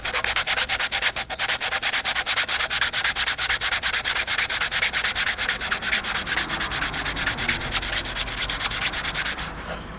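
Sandpaper of 180 grit rubbed over a 3D printed RC car body in quick, rhythmic back-and-forth strokes, a close and steady scratchy rasp that runs unbroken for several seconds before stopping.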